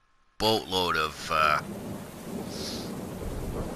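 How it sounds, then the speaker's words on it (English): Rain and thunder from the Farming Simulator 19 video game on PS4: a steady, even wash of rain noise runs throughout, with a low rumble underneath, after a short burst of speech at the start. "Now, yes, it's raining"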